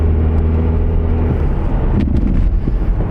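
A 2010 Toyota Camry with a check engine light and trac off light cruising on the road, giving a steady loud low engine and road rumble from inside the cabin, with a slight shift in tone partway through and no talking.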